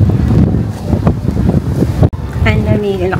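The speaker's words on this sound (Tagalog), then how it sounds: "Ang lamig, lakas ng hangin dito." Strong, cold wind buffets the microphone on a mountain, a heavy rumbling roar throughout, with a voice speaking over it near the end.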